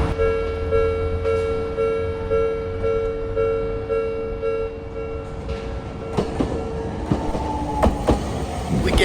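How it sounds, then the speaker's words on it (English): Tram in Tokyo rolling along with a steady low rumble and a sustained motor whine, then sharp clicks and clunks from the wheels over the rail joints toward the end. "We're getting on a tram in Tokyo."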